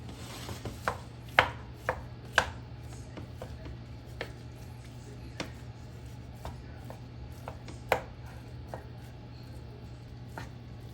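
Sharp, irregular tapping of a utensil breaking up ground meat in a pan, a few louder knocks among softer ones, over a steady low hum.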